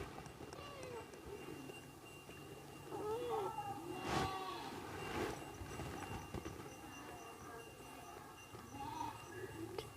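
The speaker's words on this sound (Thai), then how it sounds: "น้องแมวนั่น" A cat meows several times in a home, its short rising and falling cries coming at intervals amid a busy background with people talking nearby and a couple of sharp knocks.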